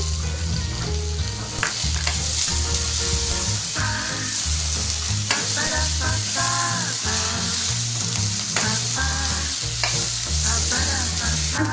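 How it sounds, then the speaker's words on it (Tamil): Onions and tomatoes fry in oil for a Tamil tomato kurma, sizzling steadily while a spoon scrapes and stirs the pan in repeated strokes, close and continuous, with no talking. "வெங்காயம் வந்து நல்லா எண்ணெயில் நல்லா வதக்கிடணும். 2 தக்காளி போட போகிறேன்."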